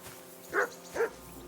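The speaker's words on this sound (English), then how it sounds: "that barking's driving me nuts" Two short, moderately loud dog barks about half a second apart rise over a quiet background in the medieval video game Kingdom Come Deliverance II, with no talking.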